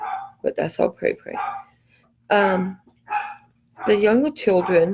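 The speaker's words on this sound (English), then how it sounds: "so sorry about the dog, guys" A dog barks several times indoors in short loud bursts, with yips in between, mixing with and overlapping a woman's speech close by.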